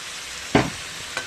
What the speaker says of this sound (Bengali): এঁচোড় প্রায় একটু ভাজা ভাজা হয়ে গেছে। এবার আমি এই যে মশলাটা সম্পূর্ণটা দিয়ে দিলাম।